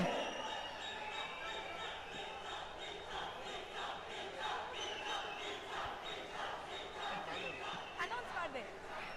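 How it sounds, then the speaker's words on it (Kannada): Loud applause and cheering from a large audience at a stage event greets an actor's arrival, a sustained dense roar of clapping with shouts mixed in over about nine seconds. "ಜೋರಾದ ಚಪ್ಪಾಳೆ"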